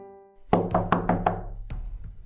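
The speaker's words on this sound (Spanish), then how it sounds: "El repentino golpeteo sobre la puerta de su camarote" Knuckles rap on a wooden cabin door in a quick burst of about five sharp, close knocks, followed by one more after a brief pause.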